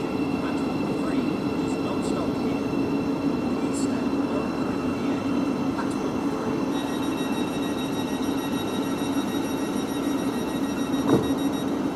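A Thameslink Class 700 train arrives at Stevenage station on the East Coast Main Line, a steady rumbling roar with faint high electric whine, heard at platform distance with voices in the background.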